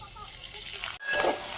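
Onion and spice masala frying in hot oil for a sago (sabudana) bhurji, a steady close sizzle with stirring scrapes, briefly cut off then resuming slightly louder.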